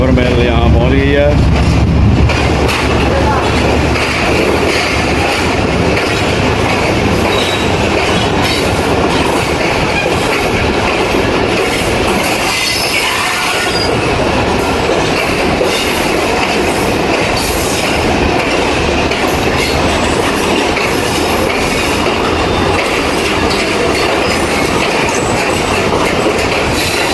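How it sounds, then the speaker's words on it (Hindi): The 2 Down Khyber Mail, a busy passenger train with a royal dining car, rolls into Khanewal Junction with a loud, sustained rumble, clattering wheels and squeals over the track; station noise and voices mix in. "ये टू डाउन खैबर मेल यहाँ पहुँच गई है।"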